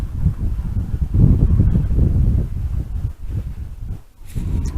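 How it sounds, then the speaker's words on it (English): Wind rushes and buffets loudly against the microphone while riding a Niu MQi+ Sport electric moped at speed, a continuous close roar with gusty swells and a brief dip near the end. "as you can probably hear, there's only the wind"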